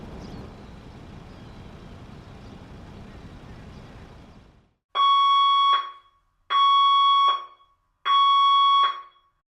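Automatic alarm at Los Santos International Airport Fire Station 51 in GTA 5, three loud electronic tone bursts of about a second each, evenly spaced, after several seconds of low engine rumble.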